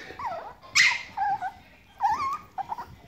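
A Yorkie and a dachshund play together, giving close, short whimpers, yips and high whiny vocalizations in quick bursts, with a brief low growl underneath.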